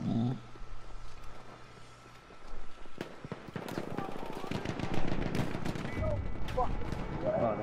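Rapid bursts of machine gun fire in the Battlefield 1 Frontline game, close and loud rattling volleys mixed with other gunshots, with players talking over the shooting.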